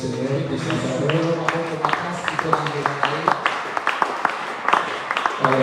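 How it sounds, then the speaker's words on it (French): A church congregation applauds the Lord, with scattered claps and sharp hand strikes mixed under loud voices, sustained and close throughout. "On acclame encore très fort le Seigneur et sa parole."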